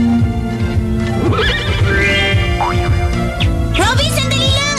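A horse neighs in several rising and falling whinnies over a steady low background hum, loud and close, with people talking at the same time.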